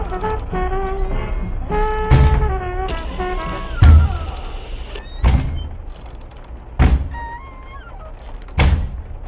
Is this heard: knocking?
yes